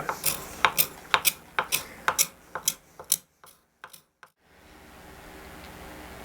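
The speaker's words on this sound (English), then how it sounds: "I'm going to grab my gooseneck and we'll start to work on the swoop" A gooseneck scraper working a curly maple guitar body, producing a steady series of short, close, crisp rasping strokes in regular rhythm, then stopping and leaving a faint background hiss.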